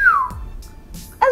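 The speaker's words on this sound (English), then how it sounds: "I can whistle a little bit." A person whistles a short tone that slides downward, then after a pause gives another brief whistled note. Quiet room, no talking.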